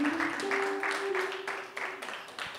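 Small home-session audience clapping for a musician, a thin run of evenly spaced claps with a steady sustained tone and some voice underneath.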